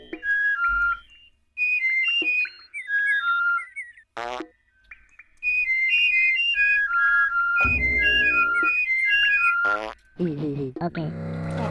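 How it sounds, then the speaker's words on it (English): Loud, shrill whistled melodic phrases from the video game Oddworld: Abe's Oddysee repeat in bursts, broken by short pauses, a few low blips and other game sound effects. "That whistling is quite obnoxiously loud as well"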